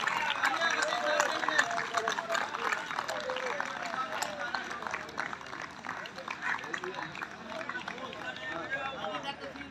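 Audience clapping at an outdoor World Yoga Day event in Bahawalpur, a dense steady patter of many hands with crowd murmur and voices mixed in throughout.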